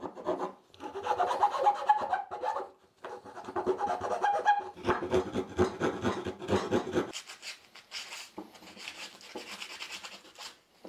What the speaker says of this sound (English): I'll try a little bit of a work with a file or a rasp, some sandpaper